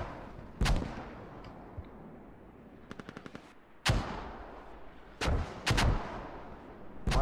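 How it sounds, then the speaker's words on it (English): Mortar fire in a video game battle, with several sharp loud blasts spaced apart and a quick rattling burst of smaller shots between them. "Mortars are coming back."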